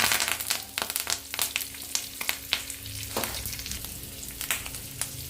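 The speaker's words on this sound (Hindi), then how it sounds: "चना दाल थोड़ा सा, एक टीस्पून, माश दाल 1 टीस्पून, राई और ये हिंग हाफ टीस्पून वही घी में तल ले रही हूँ" Chana dal, urad dal, mustard seeds and hing fry in ghee with a close, steady sizzle broken by frequent sharp crackles and pops from the spattering seeds, with no voices.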